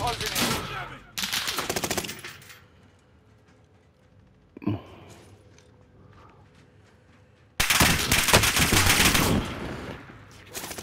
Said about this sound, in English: Yeah, you keep shooting at him.